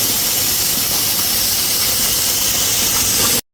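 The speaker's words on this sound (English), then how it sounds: "You can hear this letting out the steam as well." Steam hisses out of a pressure canner as it cools on a stove that has just been switched off, a loud, steady, broadband rush that holds unbroken for over three seconds and then stops abruptly.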